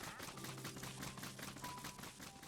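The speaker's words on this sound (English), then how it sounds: "the sound of a archery bow going click," Rapid series of bow clicks in Minecraft, repeating evenly at a quick rhythm, faint and steady with no talk over it.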